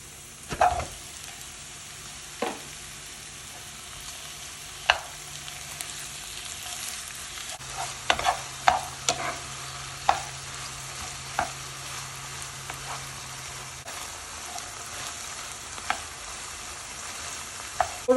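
Minced meat sizzles steadily in a hot pan while a utensil stirs and scrapes it, with sharp clacks at irregular intervals.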